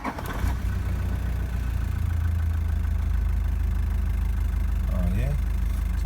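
A Toyota Prado 1KD diesel starts up and settles into a loud, steady, low clattering idle close by, with a brief voice near the end.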